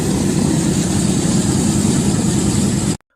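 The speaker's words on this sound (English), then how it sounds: "This C-47 beauty since World War II is waking up for the first time in 10 years" A vintage World War II C-47 radial engine running after ten years idle gives a loud, steady, rumbling drone up close, then cuts off abruptly at the end.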